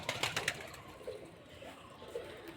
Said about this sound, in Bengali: এই যে দেখা যাচ্ছে কবুতরগুলো এইদিকে আর কয়েকটা দেখতে পাচ্ছি